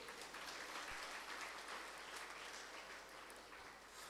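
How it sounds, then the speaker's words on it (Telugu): A seated crowd at a Shivaratri spiritual gathering claps in even, continuous applause that stays steady for several seconds. It sounds fairly distant and soft, and no one speaks over it. "చప్పట్లు కొట్టచ్చు."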